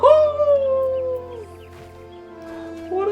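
A pumpkin pup dog in a video game lets out a drawn-out howl that slides downward and fades, followed by quieter whimpering, close and clear over a low steady hum.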